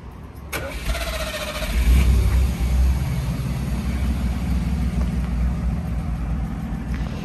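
A 1971 Ford Itamaraty's engine runs at a steady idle, swells into a brief rev, then settles back to a constant, fairly loud drone heard close up with no talking.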